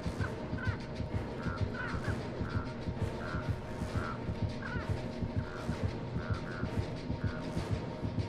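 Crows caw repeatedly in Dead by Daylight, evenly spaced harsh calls over a steady rumbling game ambience, with no voices.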